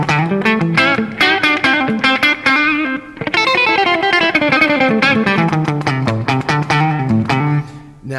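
Distorted electric guitar played through the neck humbucker pickup of a Traveler guitar, a bright, loud run of sustained chords and single notes with a brief gap midway, no voices.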